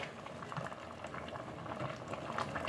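Rice noodles for khanom jeen boil in a pot, a steady bubbling and gurgling at low volume that continues throughout without pause.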